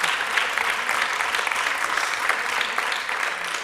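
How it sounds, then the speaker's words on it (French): Audience at a verbal jousting competition final applauding teachers, a steady dense round of clapping at moderate loudness lasting the whole stretch. "Vous pouvez également les applaudir."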